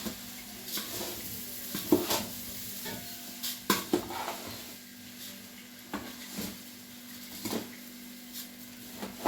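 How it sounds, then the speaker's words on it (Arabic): Vermicelli browns with salt in a hot pan: repeated scraping stirs and light clinks of a utensil against the pan over a soft sizzle and a low, steady hum. "حاطة الملح مع الشعرية عشان الشعرية تتحمر حلو"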